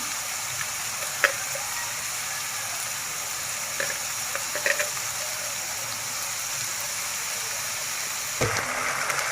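Spice paste with ground nutmeg and poppy seed cooks in a pan for beef curry, giving a steady, even sizzle throughout with a few faint scrapes of stirring.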